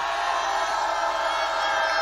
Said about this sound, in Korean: 여러분 함성 5초